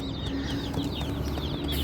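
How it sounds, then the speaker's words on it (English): Many small Cornish Cross meat chicks cheeping and clucking together in a busy, continuous chorus, close by with high repeated peeps over a low rumble. "So there should be 30 meat chickens, Cornish cross hens, in this box"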